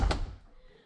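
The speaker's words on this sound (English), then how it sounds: "it will when I open the front door" Front door of an Infiniti Q50 with aftermarket illuminated sills swings open with a single close thunk and a quick fading rattle, no talk.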